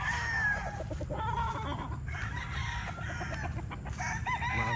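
Roosters (young stags) crowing loudly and clucking close by, overlapping calls repeating without a break against steady farmyard background noise.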